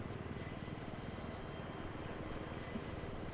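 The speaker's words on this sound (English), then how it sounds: "you can see I've been in this helicopter for some time" Helicopter in the Battlefield 3 video game, a steady rotor and engine drone with a faint choppy pulse running unbroken and fairly quiet throughout, with no talk over it.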